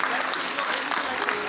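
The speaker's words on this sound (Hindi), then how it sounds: "जोरदार तालियों के साथ इनका स्वागत कीजिए।" An audience gives a brief burst of dense clapping, welcoming a singer onto the stage at a devotional music event, with a voice speaking over it.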